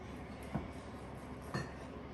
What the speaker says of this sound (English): we will slice it up into nice slices this way, like so